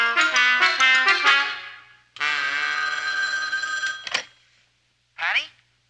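Old-fashioned telephone bell ringing in a sitcom scene, a burst of rapid rings, then a long sustained ring that cuts off, followed by a short final ring after silence.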